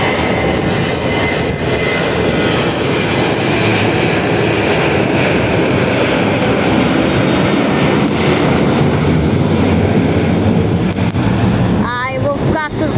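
A TUI Boeing 737 takes off at Madeira Airport, its loud engine roar filling the scene steadily and close, with a brief chirping sound near the end.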